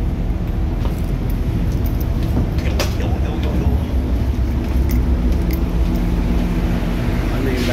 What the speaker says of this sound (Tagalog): Yun yung mga sasakyan.